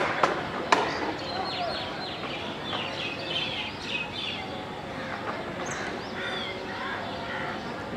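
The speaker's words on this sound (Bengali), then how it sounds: "পাখিরা কিভাবে বিড়ালের মতো ডাকতেছে।" A bird perched in a tree gives a call said to sound like a cat meowing, a series of short, repeated chirping notes over a steady outdoor background.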